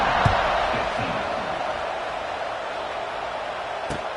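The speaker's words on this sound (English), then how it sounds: "this crowd is buzzing after that last score" Stadium crowd in an NCAA college football video game, a steady broad roar of murmuring fans with a couple of brief sharp cheers or claps near the start and end, continuous and fairly loud throughout.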